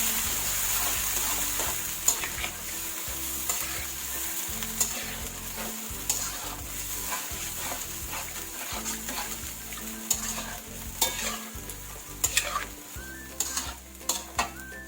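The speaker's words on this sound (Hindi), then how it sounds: "दही डालने के बाद फ़ौरन हम चम्मच चलाएंगे और आंच कर देंगे बिल्कुल धीमी ताकि दही का दाना ना बने।" Chicken karahi sizzles in a pan as yogurt is stirred in, a steady fry hiss broken by frequent close spoon scrapes and clinks against the metal over about fifteen seconds, with no talking.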